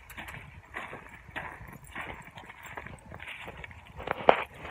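A horse walks along with a steady, even clip-clop of hooves, moderately close but fairly soft, over light background noise.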